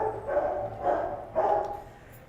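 Large dogs bark at an animal shelter, three loud, deep barks evenly spaced, each a short burst, close by with no talk over them.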